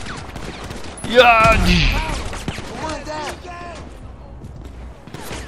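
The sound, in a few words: gunfire in video game GTA 5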